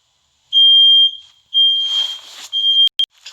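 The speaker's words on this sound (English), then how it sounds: "Smoke alarm silenced in the kitchen." A Nest smoke alarm in a kitchen sounds loud, piercing high-pitched tones in three long beeps with short gaps, ending in a couple of sharp clipped chirps.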